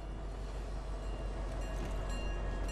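A train rolls past in a video game, a loud, steady, broadband rumble filling the whole clip without a break.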